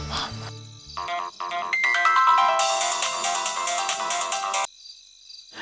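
A mobile phone ringtone plays while a call is placed to a driver, a loud melodic electronic tune of repeating tones that runs for several seconds, then cuts off abruptly.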